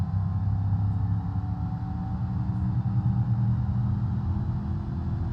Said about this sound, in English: Kind of hear the transmission on this one.